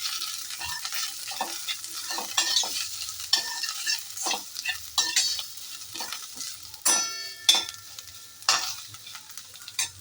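A chilli powder mixture is stirred in a frying pan, with soft sizzling under repeated scraping strokes of the spoon, close by and without talk.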